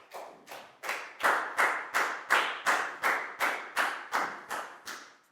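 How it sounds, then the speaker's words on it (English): A steady series of about a dozen sharp claps from children in a classroom, evenly spaced and fairly close, each ringing briefly before the next. "Big round of applause for Chu, guys."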